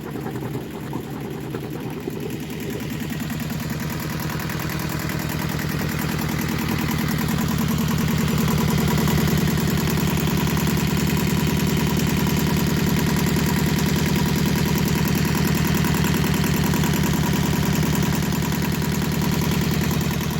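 A Yanmar 2GM20 marine diesel engine runs at a steady idle, starting quieter and building to a loud, continuous low rumble with a knocking pulse that holds for the rest of the time.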